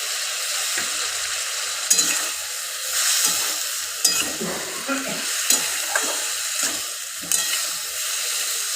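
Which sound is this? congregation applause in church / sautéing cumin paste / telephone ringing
sautéing cumin paste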